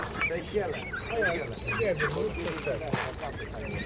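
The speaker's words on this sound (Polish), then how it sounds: "Tutaj są kaczki." Several ducks quack repeatedly amid a busy outdoor poultry market in Szczuczyn, Poland, with people talking nearby throughout.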